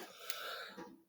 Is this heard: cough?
yes